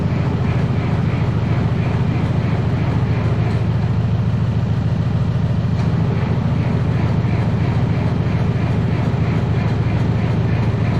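An old Minneapolis Moline tractor engine cranks over sluggishly on its starter without catching, a heavy, rhythmic churning drone that continues steadily and loudly from close range.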